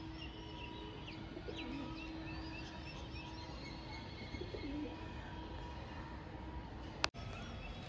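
Pigeons kept for sale, including a V-bodied pair, coo faintly and steadily in a quiet space, with a single sharp click near the end.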